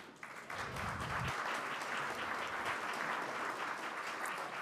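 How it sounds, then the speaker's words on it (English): A room full of people gives a steady round of applause for a pianist, dense overlapping clapping that swells after a brief start and holds evenly throughout. "I would like to take a moment and give a round of applause to our pianist today"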